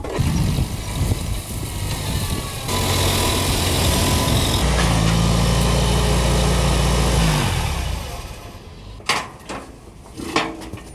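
An old vegetable tractor engine cranks on a cold day, catches and runs with a loud, steady low rumble for several seconds, then dies away into scattered clanks and knocks.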